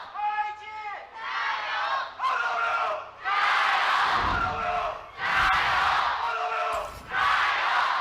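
An esports arena crowd at a 2018 LPL Spring Split match between Invictus Gaming and Rogue Warriors roars and cheers in loud, surging bursts, with chanting swells rising and falling several times.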